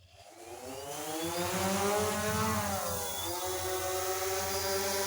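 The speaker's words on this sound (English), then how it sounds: "take both the 2 sticks, put them down into the center. That'll start the propellers" The propellers of a DJI Phantom 2 drone spin up from near silence into a loud, steady, rising whine with buzzing harmonics that holds at full pitch, close by and with no voices.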